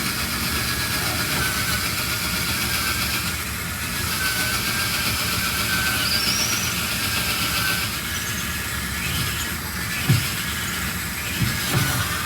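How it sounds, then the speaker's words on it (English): A power drill bores a hole into a van body, whirring steadily and loudly for the whole stretch without pause, with a couple of sharp clicks near the end. "let's go ahead and just drill the first hole"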